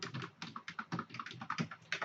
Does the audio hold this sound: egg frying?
no